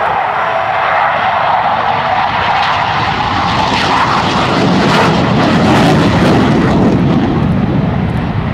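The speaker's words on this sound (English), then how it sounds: "you'll shortly hear the Hornet's two GE F404 turbofan engines spooling up to their maximum power" An F-18 Hornet's twin GE F404 turbofan engines roar loudly and continuously at an airshow, a broad, dense jet rush that swells slightly in intensity as the engines spool up toward maximum power, with no talk.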